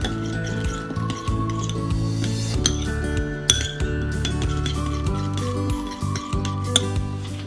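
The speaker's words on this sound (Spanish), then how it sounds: "Y ahora mezclamos bien" Dried herbs and garlic powder are mixed in a bowl with a utensil, making bright clinks and ringing taps against the bowl over a steady background of music.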